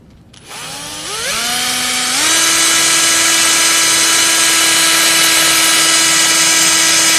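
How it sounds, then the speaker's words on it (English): A power drill drives a battery holder into a homemade electric bicycle conversion. The motor spins up with a rising whine over about two seconds, then holds a loud, steady drone with no talking. "I can start drilling it into place"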